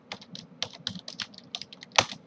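Rapid, uneven clicks of typing on a computer keyboard, close and clear, ending in one sharper keystroke.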